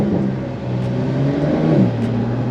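A Porsche 911 Carrera accelerates hard with a loud, close engine note that rises and dips as quick gear shifts break the pull, with no talking.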